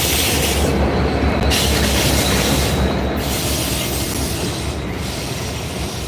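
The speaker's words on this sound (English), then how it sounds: "it's a big CSX train" A big CSX freight train rolls past close by, its railcars rumbling steadily with wheel squeal and rhythmic clickety-clack on the rails, loud and continuous throughout.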